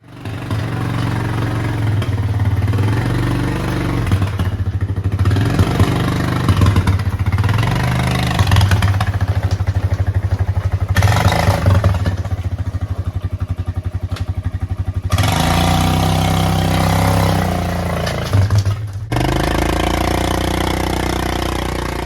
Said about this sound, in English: let's go see if that ATV will start now